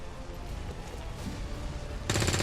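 Rapid automatic gunfire from a soldier's rifle in the XCOM 2: War of the Chosen strategy game, a dense burst bursting in loud and close near the end over a steady background din.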